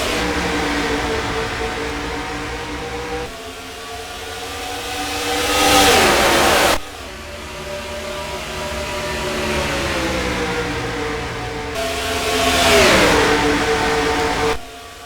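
Stock cars in a NASCAR SEGA racing game roar away at the race start at Chicagoland, engines rising in repeated loud revving surges as gears climb, with no voices over the steady mechanical drone.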